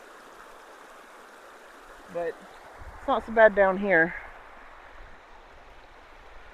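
River water rushes steadily through culverts under a road on a foggy morning, a constant near wash of noise running the whole time beneath a few short spoken phrases.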